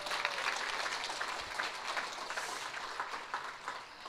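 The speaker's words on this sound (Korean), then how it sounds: "You're sitting here clapping right now" A seated audience at a business success-story event claps together in a steady, dense wash of applause that holds at an even level throughout, with no voices standing out.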